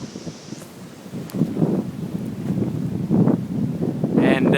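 Cold wind on Kennesaw Mountain gusts and rumbles against the microphone in uneven buffets. It grows stronger toward the end, with a faint rustle behind it.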